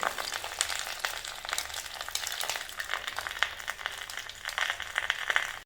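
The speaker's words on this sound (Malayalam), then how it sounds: "വറുത്ത എണ്ണയും കൂടെ അതിൻ്റെ മേലിലോട്ട് അങ്ങ് ഒഴിച്ച് കൊടുക്കുക" Hot fried oil poured over a pearl spot fish curry sizzles and crackles steadily throughout, a dense close hiss with scattered sharper pops and no voices.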